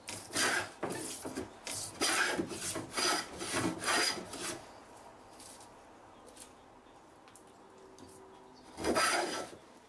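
Hand plane strokes shaving a board on a workbench, a run of rapid rasping passes followed by a pause and one more stroke near the end, close and fairly quiet.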